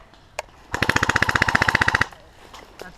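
An airsoft gun fires a rapid automatic burst of about twenty crisp snapping shots during an airsoft game in a quarry, preceded and followed by a few single shots and faint voices.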